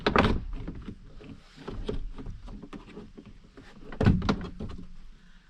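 Trim clips and door card parts of a 2021 RAM 2500 truck door clunk and rattle as the panel is lifted off, with a loud knock at the start and another near the end amid scattered plastic clicks.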